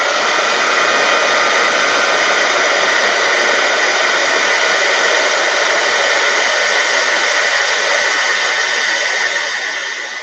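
Heat tool blowing over embossing powder on a mixed media card, a loud steady whooshing fan-and-heater roar held close and constant throughout, easing slightly at the end, with no voices.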